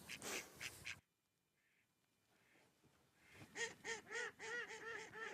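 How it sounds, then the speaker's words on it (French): Ducks on a bay quack in a loud burst, then after a quiet stretch with a couple of faint calls, break into a rapid, close chorus of repeated quacks. "il y a le bruit des canards"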